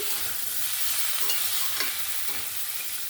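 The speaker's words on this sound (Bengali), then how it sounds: "বেগুন আলু আর পুঁই ডাঁটা ভালো করে নাড়াচাড়া করে নেব" Eggplant, potato and Malabar spinach stems are stirred in a hot pan with spices, giving a steady frying sizzle with a few soft scrapes of the spoon against the pan.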